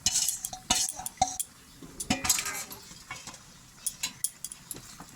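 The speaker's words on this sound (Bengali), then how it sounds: "ভালো করে নাড়িয়ে দিই।" Jackfruit with egg and potatoes being stirred in a pan, repeated metallic clanks and scrapes of a spoon against the pan in an uneven rhythm, over a faint sizzle.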